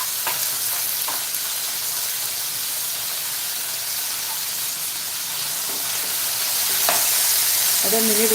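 Potatoes and peas sauté in a pan for masale bhaat, giving a steady loud sizzle with occasional stirring clicks and scrapes near the mic.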